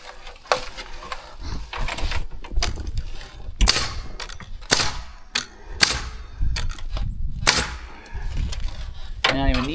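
Nails are driven into lumber on a new build outdoors in freezing weather: a series of sharp, loud, irregular impacts close by, over steady background noise.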